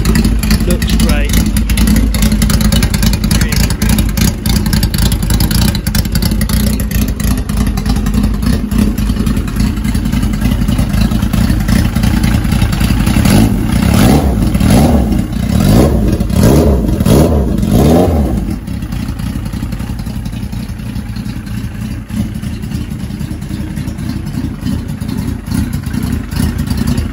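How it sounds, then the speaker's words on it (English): Motorbike engine revving loudly and steadily throughout, with pitch rising and falling in bursts of throttle midway before settling to a lower idle-like drone near the end. "bike sounds really, really nice"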